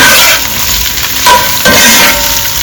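Potatoes frying in a pan for a drumstick-leaf powder potato fry, stirred with a few scraping knocks over a loud, continuous close sizzle.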